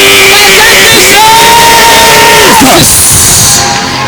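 Loud shouting from a church congregation during a Sunday service, a sustained collective yell swelling then dropping off over a few seconds, with crowd voices layered together.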